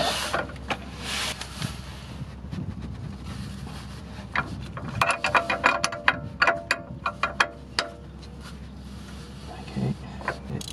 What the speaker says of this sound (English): get the rear sway bar end links off first, shall we? 16mm socket wrench.